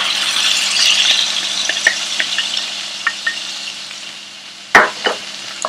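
Masala stirred into lightly browned onions frying in a pan for egg curry: a steady, close sizzle with scattered scraping clicks of the spoon, one sharper knock near the end.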